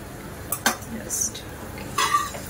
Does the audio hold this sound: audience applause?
no